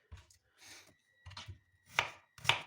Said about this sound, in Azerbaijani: Soğanı da bax belə yarı bölüb və bax bu şəkildə samavari doğrayırıq